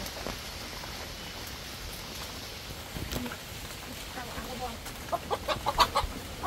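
A chicken clucks by a backyard coop in a steady run of short calls that thicken toward the end, over a noisy outdoor background with faint murmuring.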